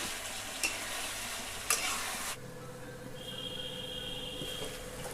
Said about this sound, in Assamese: প্ৰায় ভাজা হৈ গৈছে মাংসটো